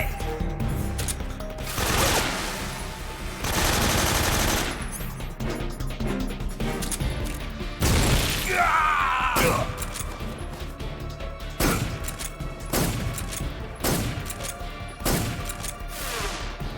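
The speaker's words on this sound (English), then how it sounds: "Grenade!" A grenade explosion and gunfire from Metal Gear Solid 3: Snake Eater erupt in loud broadband blasts and crashing impacts, with repeated shots and thuds spread across a chaotic stretch of combat.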